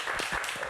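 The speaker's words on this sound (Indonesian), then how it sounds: "Kita berikan tepuk tangan untuk Torres." Applause from a studio audience for Torres, a young painter on an Indonesian talk show, a short burst of dense clapping filling the whole moment.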